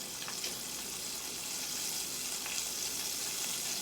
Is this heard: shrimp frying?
yes